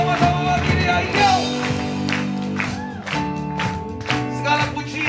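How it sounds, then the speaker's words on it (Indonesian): A congregation claps hands together during a Christmas worship service, rhythmic clapping blended under loud live praise music and singing, with shouts in the room. "Kita tepuk tangan sama-sama bagi Dia."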